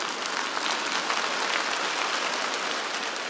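A studio audience at a Russian comedy show claps for a comedian coming on stage. The applause is dense, even and sustained throughout, with no talking over it.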